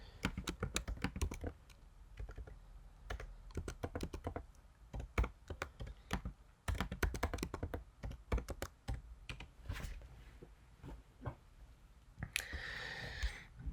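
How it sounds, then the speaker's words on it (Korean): Code being typed on a computer keyboard, a steady run of close, crisp key clicks in irregular bursts with short pauses, continuing alone for the whole stretch. "교재 460페이지에 있는 코드를 다 같이 타이핑하겠습니다"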